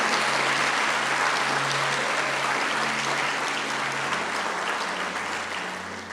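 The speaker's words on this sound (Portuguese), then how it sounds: "Pode aplaudir o nome do Senhor" A church congregation applauds steadily and loudly for several seconds, a dense continuous clapping that tapers slightly toward the end, with faint voices underneath.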